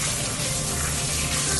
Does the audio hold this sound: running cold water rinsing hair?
yes